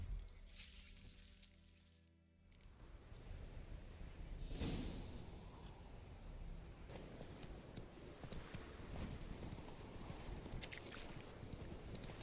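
Horse hooves clip-clop in The Witcher 3 video game, a steady stream of soft thuds mixed into outdoor ambience and wind, moderately faint throughout.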